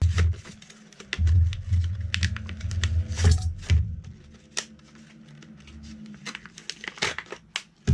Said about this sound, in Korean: 제가 개봉 안 했는데 한번 개봉을 해볼게요.